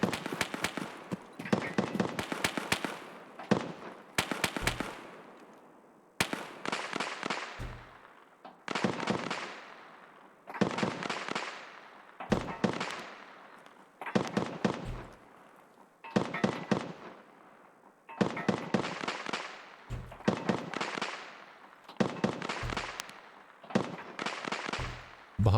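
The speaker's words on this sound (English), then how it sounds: "shooting at something over there" Gunfire in the virtual reality space game Star Citizen, heard as repeated rattling bursts of rapid shots, each several seconds long with a ringing tail, separated by brief pauses and loud throughout.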